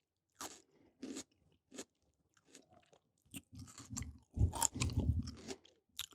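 Raw red pepper crunched and chewed close to the mic, with a few sharp bites early on and a denser, louder stretch of wet crunching toward the end, with no talking.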